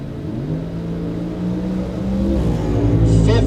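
Bracket drag race at a Southwest Showdown event, where a '67 Camaro and a '66 Nova wagon rev and launch. The loud engine roar builds steadily and swells near the end.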